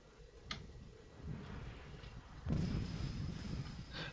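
Battleship guns firing at a Colorado battleship in World of Warships, with distant booming reports, a sharp shot early on and a heavier rumbling salvo midway, without talk.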